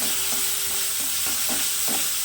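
Cooked tripe is stir-fried in a hot pan, giving a loud, dense close sizzle with rhythmic spatula scrapes about every half second and no talk.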